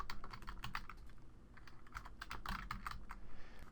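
Rapid irregular keystrokes on a computer keyboard as a file name is typed, with clicks of varying loudness and a few short pauses between bursts, close and clear.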